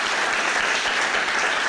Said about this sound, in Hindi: ज़ोरदार तालियों के साथ जनाब ज़फ़र मोह्युद्दीन के लिए